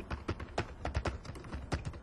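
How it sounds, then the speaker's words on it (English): Quick keystrokes on a computer keyboard while a document is typed in a word processor: a rapid, slightly uneven run of close, crisp clicks with no pause. "we start typing"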